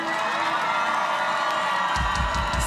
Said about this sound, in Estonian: et palun tehke endale aplaus.